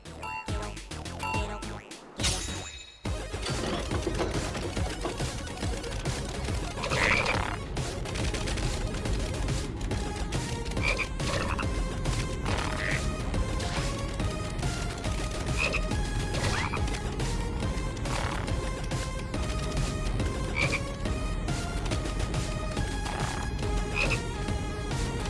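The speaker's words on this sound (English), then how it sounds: "Oh, this frog theme is fun too." A frog-themed minigame in Final Fantasy VII Rebirth plays dense, loud frog croaks repeating rhythmically over steady game sound for the whole stretch, after a brief noisy start.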